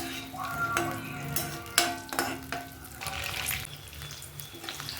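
Brinjal pieces sauté in oil over a low flame for a spicy kara kuzhambu, with a soft steady sizzle under repeated scraping stirs and a few sharper clinks, no one speaking.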